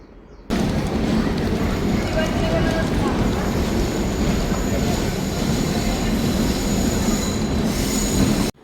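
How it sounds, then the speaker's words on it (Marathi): An Indrayani Express train rumbles along loudly and continuously, wheels squealing and rattling on the tracks, starting abruptly and ending with a sudden cut. "चालली आपली ट्रेन"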